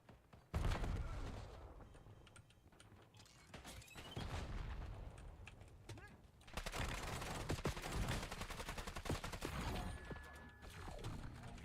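Video game combat with sustained loud gunfire, rapid bursts and heavy impacts, including a thrown frag grenade, carries on almost nonstop throughout.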